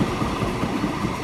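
A train engine in Transport Fever 2 drones loud and steady, a low rumbling mechanical hum with no pauses or talk over it.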